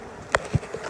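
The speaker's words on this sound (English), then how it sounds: "We still got bees coming out of it, unable to get back in it." Bees around a trap-out cone on a hive, a soft ongoing buzz with a few brief close passes and a couple of faint taps, over a very short stretch, with no voices.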